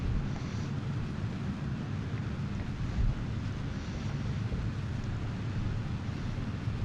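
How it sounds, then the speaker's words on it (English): Water runs from a kitchen faucet in a steady, even rushing stream that holds at the same level throughout, with one brief bump in the middle. "it's me getting some water at my faucet"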